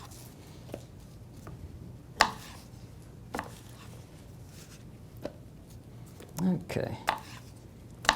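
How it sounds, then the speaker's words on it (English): A knife cutting fruit for a balsamic fruit salad, scattered soft taps of the blade on a board at an uneven pace, with a brief spoken remark among them. "I'm actually cutting these a little bit smaller than I normally would"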